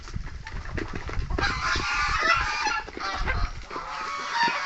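A flock of chickens clucks and squawks loudly and continuously at close range, scrambling and jostling over food just tossed to them, with overlapping calls and no talking.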